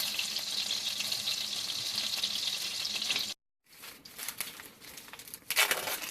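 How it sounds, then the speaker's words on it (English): Eight tablespoons of butter melting and sizzling in a pan, a steady close frying crackle that cuts out briefly, then resumes with stirring and scraping noises. "8 tablespoons of butter melting in your pan."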